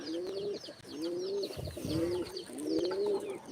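A pigeon coos in four repeated, rhythmic phrases close by, with faint chirps and brief rustling and handling noise underneath.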